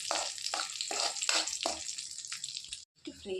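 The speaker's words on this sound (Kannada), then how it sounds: "ಬಾದಾಮಿ ಮತ್ತು ಗೋಡಂಬಿ ಹಾಕ್ಕೊಳ್ತೀನಿ" Almonds and cashews fry in hot ghee for wheat payasa, a loud close crackling sizzle in rhythmic bursts as they are stirred, then a brief silence and a short return.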